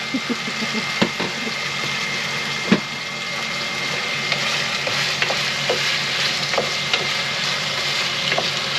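Chicken stir-fried in an ordinary pan rather than a wok, seasoned with salt and pepper, giving a steady close sizzle with scattered pops and clicks of utensils against the pan, no voices.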